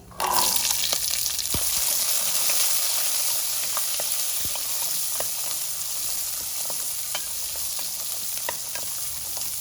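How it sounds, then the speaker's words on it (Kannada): Country onions frying in oil with mustard seeds, cumin, curry leaves and dried red chillies for sambar, a loud, bright, continuous sizzle with scattered spatula clicks and scrapes and no one talking. "ಈರುಳ್ಳಿ ಚೆನ್ನಾಗಿ ಫ್ರೈ ಆಗಬೇಕು ಎಣ್ಣೆಲಿ ಅದುವರೆಗೂ ಫ್ರೈ ಮಾಡ್ಕೊಳ್ಬೇಕು"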